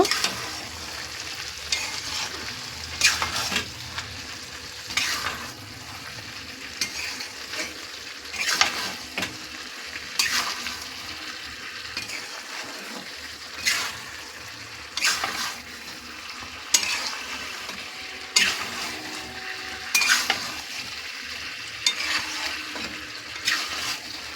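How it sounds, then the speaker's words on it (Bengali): Potato and cauliflower curry being stirred in a frying pan, with repeated scraping strokes over a steady sizzle in an even rhythm, close and clear, with no talk. "এবার ভালো করে মিশিয়ে নেব"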